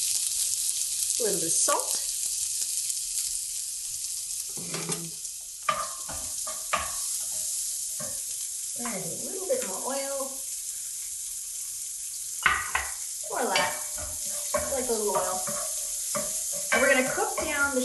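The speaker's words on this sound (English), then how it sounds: "Allow the shallot to cook in the oil that's left over from cooking the salmon" Shallots fry in leftover salmon-cooking oil in a pan, giving a steady close sizzle as they are stirred, while people talk over it at intervals.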